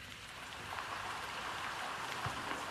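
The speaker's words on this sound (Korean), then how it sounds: "군산엔 빗물이 앞을 가릴 정도로 지금 많은 비가 내리고 있습니다" Heavy rain from an overnight downpour in Gunsan, South Korea, where streets are flooding, makes a continuous, even hiss of falling water. It is fairly soft and steady, with no voices.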